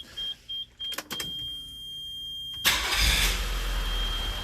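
A Nissan Figaro with valve clatter is heard: a few short clicks and whirs precede the starter, then the engine catches and settles into a loud, steady idle close by, with no talking.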